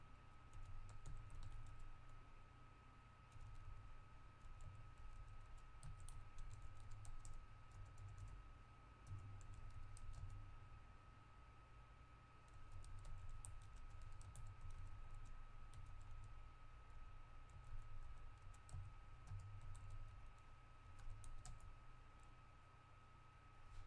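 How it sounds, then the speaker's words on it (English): Steady typing on a new computer keyboard, a continuous run of quiet key clicks with brief pauses over a constant electrical hum, with no one speaking. "I'm getting used to a new keyboard if you guys can't tell"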